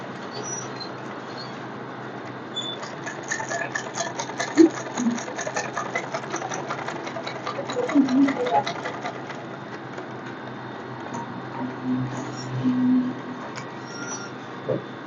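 A sewing machine stitches fabric in a steady, rapid mechanical chatter, running continuously at close range with slight swells in intensity and no talking over it.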